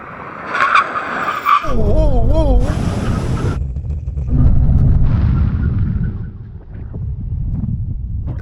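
Tesla Model S Plaid braking hard on a runway, tyres squealing and skidding with a wavering pitch over a loud low rumble of road and wind noise, someone talking over it before it fades out.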